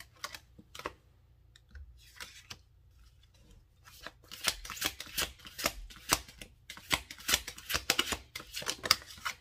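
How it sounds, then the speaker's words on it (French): Tarot cards being shuffled and drawn by hand, with a few sparse crisp card flicks at first, then a dense run of rapid riffling and slapping close up, no talking. "je vais juste tirer 2 cartes comme ça"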